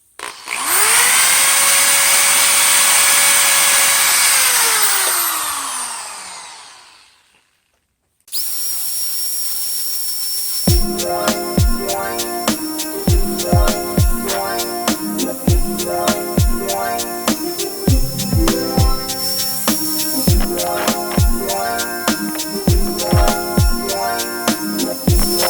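Power drill with a polishing attachment buffing a metal part of a Kirby Sentria vacuum during restoration: a loud motor whine that winds down to silence, then restarts with rapid rhythmic rattling and grinding for the remainder; no talking.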